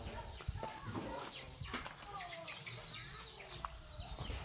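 Chickens cluck and squawk close by in a busy farmyard beside rice fields in Laos, with scattered calls overlapping throughout and some background voices.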